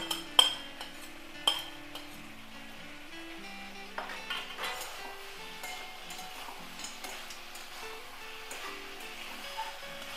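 Spices sautéing in a curry pan with a spoon stirring and clinking against the metal, a soft sizzle underneath and a few sharper scrapes, close and fairly quiet.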